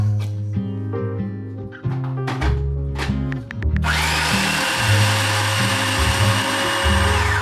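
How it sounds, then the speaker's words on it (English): A food processor grinds raw cashews into nut flour, starting with a low motor whir under some clatter and then surging into a loud, continuous, gritty roar that holds steady. "Now all of this is going to blend in our food processor to make that ground up flour"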